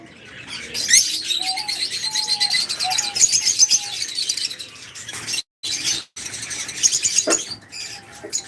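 Lovebirds chirp in quick, high, scattered bursts close by at a bird farm, a busy twittering with brief pauses.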